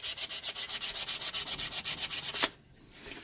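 Kawasaki KV75/MT1 clutch disc being scuffed to remove glaze, about twenty quick rhythmic rasping strokes, close and steady, ending abruptly into quiet.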